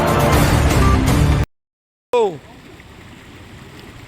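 Water gushing from a burst main water line under a road in Rajkot's Malviya Nagar. A loud, dense rush lasts over a second, cuts off abruptly, and gives way to a quieter background.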